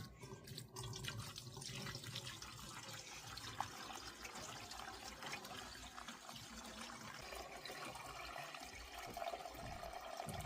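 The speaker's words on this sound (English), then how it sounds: "It's extremely heavy pouring 4 gallons of milk in a tiny little jar with those ones." Four gallons of fresh farm milk poured from a milking bucket into a small jar, a steady continuous liquid splashing and gurgling close up, with no talk.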